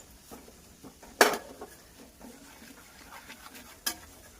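Spices including Kashmiri red chilli powder and garam masala are stirred in oil in a pan: a quiet low sizzle is broken by a few scraping strokes and two sharp utensil clinks against the pan.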